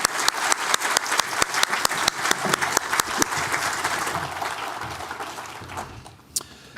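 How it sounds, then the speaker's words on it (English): An audience at a regulatory roundtable applauds a panel, clapping steadily in a dense burst that gradually thins and fades out near the end. "Can I ask you all to please join me in a round of applause for this great panel?"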